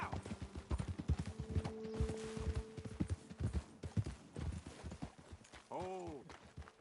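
Horse hooves clip-clop in a quick, uneven rhythm in Red Dead Redemption 2, several horses close by, with a short whinny near the end and game voices talking over them.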